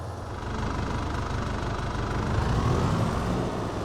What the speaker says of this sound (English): the other tractor's headed back here